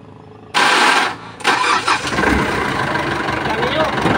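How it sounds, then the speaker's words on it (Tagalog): A vehicle engine cranks and catches after a short silence, roars loudly for a moment, then settles into a steady, close idle, with a voice speaking over it. "Patayin muna natin tapos i-start natin kung madali bang pandarin."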